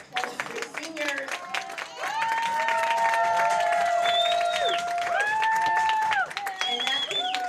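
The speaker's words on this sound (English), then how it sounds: "Please give another round of applause for your class of 2023 seniors" Applause and cheering from a crowd at a high school girls' soccer senior night for the class of 2023 seniors, steady clapping under loud sustained whistles and shouts that rise and fall over several seconds.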